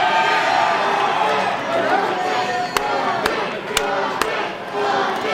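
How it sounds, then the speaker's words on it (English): A wrestling crowd at a Capital City Wrestling show cheers and chants for Bobby Boyette, a loud sustained roar with several sharp claps or slaps cutting through, under a commentator's voice. "The crowd rallying behind Bobby Boyette"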